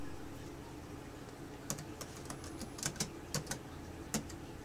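Typing on a computer keyboard, heard as a short run of scattered, fairly close key clicks against a quiet background hum.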